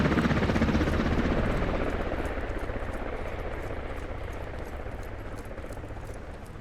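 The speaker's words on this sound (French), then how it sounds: "Un poil bruyant les hélicos de l'armée" Military helicopter in the Squad video game, a loud, steady rotor chop with dense beating texture, close and continuous, slowly easing in volume over the clip with no talk.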